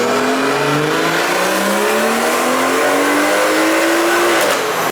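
A tuned BMW engine with a JB4 tuner revs hard and continuously in fourth gear, its pitch rising steadily through one long pull, loud and close with a throaty roar.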